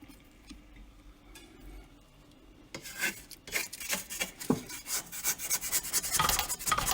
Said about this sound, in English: take a spatula, scrape down the sides